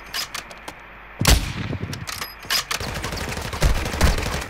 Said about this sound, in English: Shoot inside. You can wall bang it.